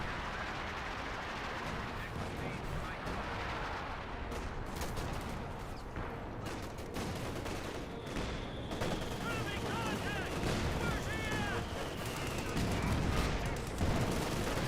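Artillery barrages and rattling gunfire from a Company of Heroes 2 battle rumble on continuously, with dense bursts and blasts layered over a steady low roar while a commentator's voice runs underneath.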